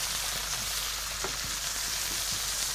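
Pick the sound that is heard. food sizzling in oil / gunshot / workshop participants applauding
food sizzling in oil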